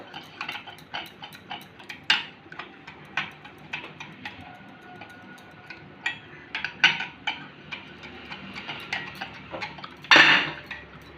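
A spoon stirs custard powder in a bowl, quick repeated metallic clinks and taps against the sides at an uneven rhythm, close and fairly crisp, with a louder scrape near the end.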